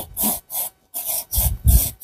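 Rhythmic rasping strokes of a hand saw cutting through wood, five or six back-and-forth strokes, close and fairly loud.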